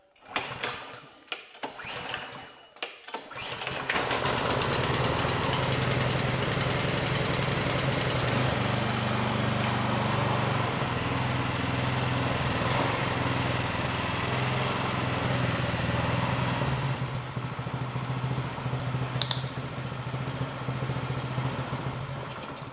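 A Bolens Powermore MTD snow blower engine, choked and at half throttle after a carburetor cleaning, is pull-started. A few rough pulls sound first, then the engine catches and runs loud and steady to the end.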